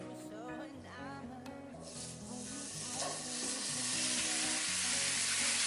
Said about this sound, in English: just cook the ground beef as is.